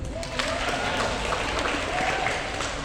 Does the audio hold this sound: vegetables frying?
no